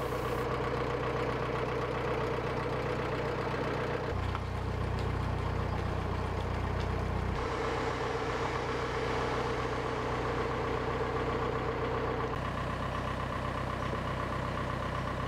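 Narrowboat diesel engine chugging steadily along the Grand Union Canal between Tring and Rickmansworth, a continuous low throbbing idle-like rumble with a deeper surge midway, close and constant throughout.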